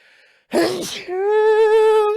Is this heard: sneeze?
yes